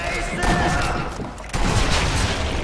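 Sniper rifle shots hitting enemies in Sniper Elite V2, loud booming reports with rumbling echo: a sustained blast at the start, a dip, then a second heavy report and its echo near the middle, under faint background voices.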